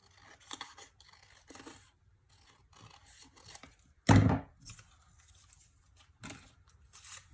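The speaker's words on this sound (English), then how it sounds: "cut a piece, trim it so it's just a little bit more than your piece of wood" Scissors snip and trim a piece of material to fit a wooden snowman, one sharp loud cut standing out among quieter rustling and handling sounds, with no talking.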